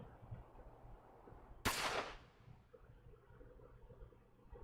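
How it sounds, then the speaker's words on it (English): A single gunshot rings out at night in the wind, one sharp loud crack with a short decaying tail over a low windy background. "Bond heard a gunshot."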